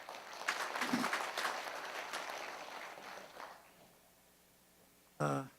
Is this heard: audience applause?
yes